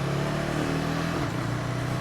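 A 2025 KTM 390 Adventure motorcycle engine hums steadily on a road ride, then its pitch drops once midway as the rider shifts gear without the clutch, continuing loud and close with no talk.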